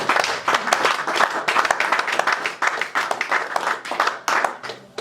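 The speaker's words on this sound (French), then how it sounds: "Est-ce qu'on peut acclamer pour Dieu ce matin?" A church congregation claps and applauds together, a steady crowd of hands in uneven bursts that rise and dip for several seconds, with scattered voices cheering under the clapping.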